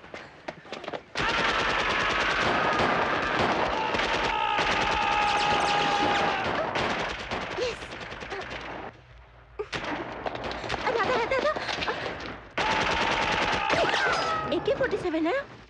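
AK-47 machine gun fire from a Hindi-dubbed action movie: long, loud rattling bursts separated by a short pause, with music and shouting voices mixed in between volleys.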